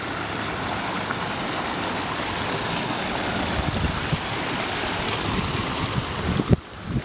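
Creek water flowing steadily, a continuous broadband rush of running water that stays level throughout, with a brief louder splash or disturbance near the end.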